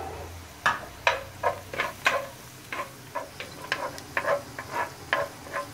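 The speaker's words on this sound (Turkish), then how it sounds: "Biberlerimi atıyorum ilk önce." Peppers sautéing in a pan in a Turkish kitchen while beef steak is prepared, giving soft sizzling with a series of light scraping stirs and clicks at a steady rhythm, close and moderately quiet, with no talking.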